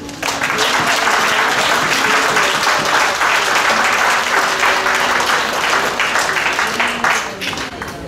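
A church congregation applauds together during a service, dense sustained clapping from a full room that starts abruptly and stays loud for several seconds before tapering near the end.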